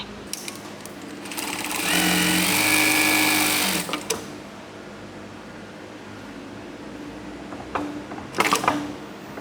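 A computerized sewing machine stitches in a fast whirring burst of about two seconds, then stops, followed by quieter clicks and a brief mechanical whir near the end.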